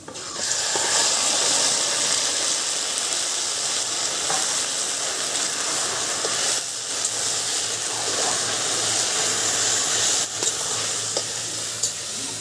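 Jute leaves fry in a pan with fried onion and garlic, giving a loud, continuous sizzle and hiss with occasional stirring knocks, and no voices.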